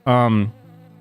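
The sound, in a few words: bees buzzing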